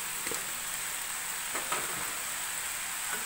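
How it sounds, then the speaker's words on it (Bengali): Pumpkin pieces sizzle and fry in a pan with sugar while being stirred, a steady close crackling hiss with soft scraping strokes at intervals, no talking. "তো চিনিটা দিয়ে আমি আবার একটু ভালো করে নেড়ে দিচ্ছি।"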